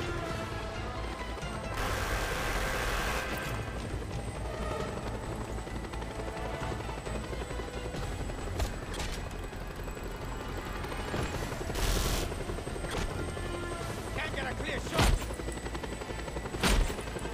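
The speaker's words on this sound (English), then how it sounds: "Scorpio, you better take care of that helicopter!" A helicopter's steady rotor drone fills the scene in the video game Just Cause 2, broken by bursts of gunfire and a few sharp bangs.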